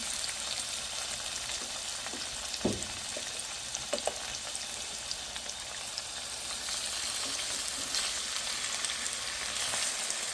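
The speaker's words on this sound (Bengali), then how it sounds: "অলিভ অয়েল তেল দিয়ে দিয়েছি এখন ম্যারিনেট করা সালমনটা দিয়ে দিলাম" Marinated salmon pieces frying in olive oil in a pan, a steady close sizzle with occasional pops and spatters, a couple of sharper crackles near the start, no voices.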